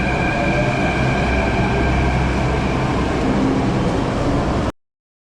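A Delhi Metro train near the Jama Masjid station roars steadily with a loud, dense rumble and faint whining tones, then the sound cuts off abruptly.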